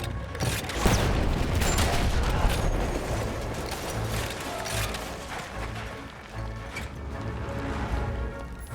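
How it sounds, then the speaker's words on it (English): Dense, loud battlefield din in Battlefield 1 as an anti-tank weapon fires at a tank, with booms and mechanical clatter blending into a continuous roar of gunfire and explosions. "Taking out a tank with 1 or 2 shots"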